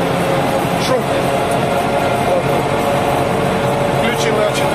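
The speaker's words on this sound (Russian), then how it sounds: "Этот трактор намного шумнее." A tractor engine runs loud and steady throughout while sowing rapeseed in a field, a constant droning rumble, with no talk over it.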